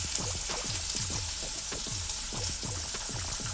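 Onions frying in hot white oil for a Kolkata-style egg kabiraji make a loud, steady sizzle throughout, with a regular, repeating lower bubbling pulse beneath the hiss.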